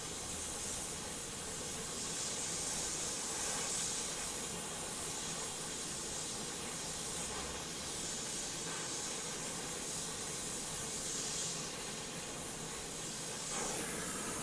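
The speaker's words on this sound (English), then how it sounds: "I'm going to adjust my flame down a little bit" A gas torch flame hisses steadily and continuously close by while preheating copper stock ahead of forging alongside stainless steel, a broad, unbroken rush with no voices.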